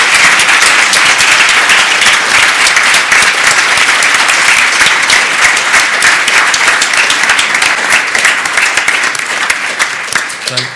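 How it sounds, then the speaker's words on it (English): A conference plenary audience applauds with thick, continuous clapping at close range. The applause stays loud throughout and only thins slightly at the very end. "Thank you very much for that applause"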